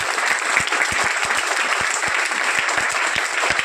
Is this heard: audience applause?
yes